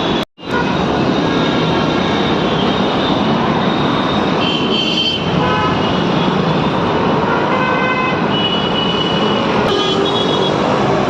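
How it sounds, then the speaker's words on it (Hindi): Busy street traffic during a crowded festival day, a loud continuous roar of engines with several car horns tooting throughout, close and dense. "ट्रैफिक बहुत हो रहा है"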